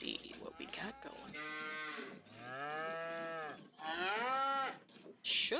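Barn cows in the Hof Bergmann farming game low insistently, three or four drawn-out moos following one another closely, near and loud, with brief pauses between calls.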